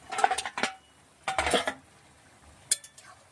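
Dishes and pots are scrubbed and washed by hand, clanking and clinking together in three short, close bursts separated by quiet pauses.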